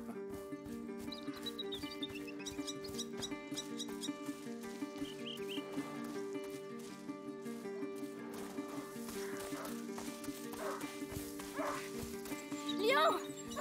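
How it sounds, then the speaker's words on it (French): In A Plague Tale: Innocence, a hunting dog barks several times at a distance among game music and ambience, and voices speak over parts of it. "Un chien de chasse !"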